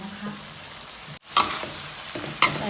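Vegetables for homemade carrot noodles stir-fry in a hot pan with a loud, close sizzle, broken by a brief lull and then two sharp crackling bursts as the food is tossed and scraped.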